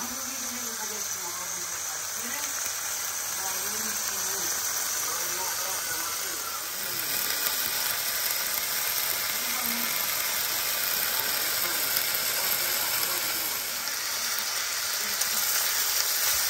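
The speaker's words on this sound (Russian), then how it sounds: "Обжариваем мясо до золотистой корочки." Rabbit meat frying in a tajine, a loud, steady sizzle of hot fat filling the whole stretch, with occasional stirring and a voice talking over it.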